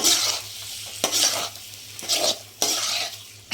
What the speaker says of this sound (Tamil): எறாவை போட்டாச்சு இப்போ கிண்டி விட்டுக்கலாம்